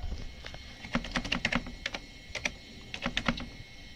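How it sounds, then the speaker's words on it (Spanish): Rapid clicking keystrokes on a computer keyboard, typing in irregular bursts of close, crisp taps with short pauses between them, with no talking. "vamos a teclear Excel KFA"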